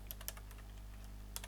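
Fast, light keystrokes on a computer keyboard while entering text into a browser search box, irregular clusters of clicks close to the mic over a low steady hum.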